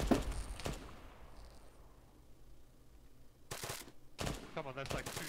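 Gunfire in Arma 3 during a night military operation: a few sharp shots crack early, then after a lull two loud bursts ring out near the end, with someone talking between them.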